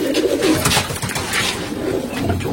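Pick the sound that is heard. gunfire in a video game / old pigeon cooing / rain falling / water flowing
old pigeon cooing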